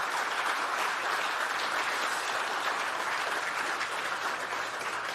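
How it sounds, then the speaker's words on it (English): Sustained applause from an audience at the Fieldays Innovation Awards, a thick, even roar of many hands clapping that stays loud and unbroken from start to finish. "What a round of applause for each and every one of them."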